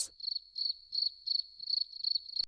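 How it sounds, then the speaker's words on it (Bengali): Crickets chirping in a steady series of rapid, evenly spaced high trills, about eight pulses, alone and fairly close in a quiet rural field setting. "ঝিঝি পোকার আওয়াজ"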